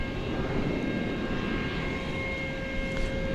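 An American Airlines Airbus A321 arriving from Salt Lake City at DFW Airport at night, a steady broadband jet roar with sustained engine tones, close and continuous throughout.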